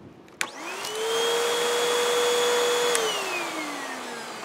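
A Hoover WindTunnel vacuum cleaner starts with a click, then holds a loud, steady whining drone with a clear tonal hum for a few seconds before being switched off and winding down, close by and with no talk.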